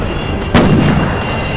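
A single sharp firecracker bang goes off close by, set off as a distraction, rising out of a dense noisy background and leaving a short rumbling tail.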